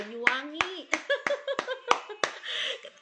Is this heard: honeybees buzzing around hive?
no